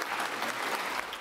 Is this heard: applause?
yes